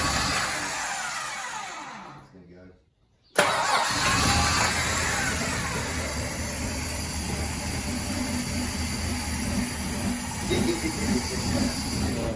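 A VG Valiant car engine cranks, cuts out briefly, then fires up and settles into a loud, steady, rough running idle close to the listener.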